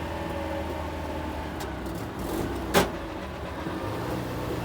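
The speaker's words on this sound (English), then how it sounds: "So I let the clutch up and the back engine reacted later than the front engine." A twin-engine Citroen 2CV 4x4 Sahara driving toward a junction gives a steady, even engine drone inside the cabin, with one brief sharp knock near the end.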